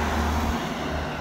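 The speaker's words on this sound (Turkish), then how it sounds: "Arabalar geçiyor, insanlar var falan." Steady, loud traffic rumble from cars passing along a city street, a continuous roadway wash with no distinct pauses.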